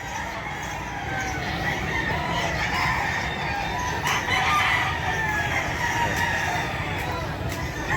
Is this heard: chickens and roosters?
yes